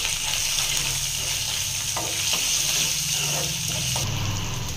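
Oil sizzling steadily in a pan with tomatoes and a spoonful of turmeric, part of a drumstick and tomato curry, a continuous close frying hiss with a few soft stirring knocks throughout.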